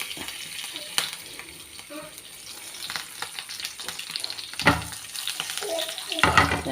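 Dried red chilies crackle and sizzle in hot oil for Onam rasam, with steady frying hiss broken by sharp pops and stirring clatter, close by and without talk.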